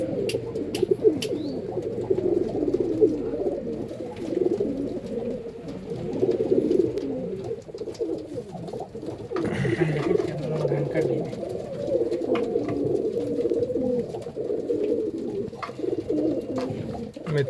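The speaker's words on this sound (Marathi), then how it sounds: "आपण सगळे कबूतर बघूया आता" Lightweight pigeons in a compact breeding setup keep up a steady, layered cooing close by throughout, while someone talks over them.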